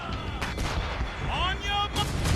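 Ship cannons firing in Assassin's Creed Rogue, several heavy booming blasts in quick succession with rumbling tails, mixed with shouted orders and game sounds.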